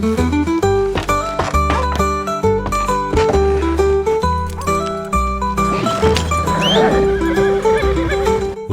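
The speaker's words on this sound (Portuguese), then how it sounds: "Os cavalos que estão puxando a carroça ainda não aprenderam a trabalhar juntos muito bem" Horses pulling a wagon in Red Dead Redemption 2, heard as loud neighs and whinnies with steady clip-clop hooves over a continuous musical score, no talking.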